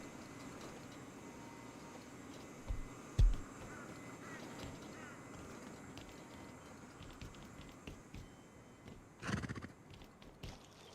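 A horse in the video game Rust gives a couple of short neighs, one near the middle and another louder burst near the end, over a steady low rumble of game ambience.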